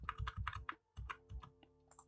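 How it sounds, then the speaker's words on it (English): Keys on a computer keyboard are tapped in quick clicky bursts close to the microphone, a run of presses, a brief pause, then more taps. "you can press the upward button in your keyboard like this"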